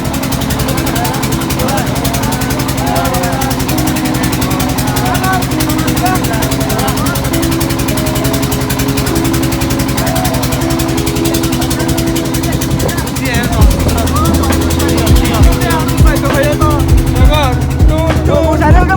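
Boat engine drones loud and steady on the journey to Sonadia Island, a continuous close motor hum that deepens and roughens toward the end, with a voice talking over it.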